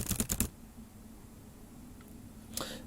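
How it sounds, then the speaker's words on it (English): Quick rapid clicks of typing on a computer keyboard, a short close burst of keystrokes at the start, then quiet with a couple of faint taps and one more brief click later. "Just type a whole bunch."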